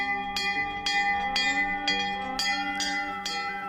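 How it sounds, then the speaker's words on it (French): An old school bell in the At-Mansour region of Algeria rings in about eight rapid, evenly spaced strikes, each clang ringing on and overlapping the next, clear and alone. "Cette vieille cloche d'école est le témoin d'une époque qui a marqué la région d'At-Mansour"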